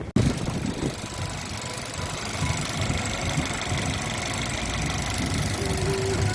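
An MG HS car engine idling after a general tune-up with cleaned spark plugs, running with a steady, even rumble close to the microphone from start to finish and no talking.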